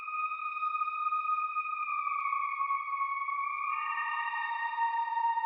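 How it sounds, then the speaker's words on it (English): Synthesized whistle tone in a production, a clean sustained pitched line with soft harmonics that glides slightly lower midway and then splits into layered notes, steady and moderately loud with no voices. "Then we have the identical whistle sound."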